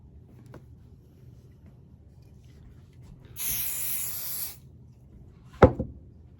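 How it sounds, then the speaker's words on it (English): A short burst of aerosol spray hisses for about a second onto quilt fabric against a quiet background, followed later by a sharp knock. "just give it a little spray, not a lot"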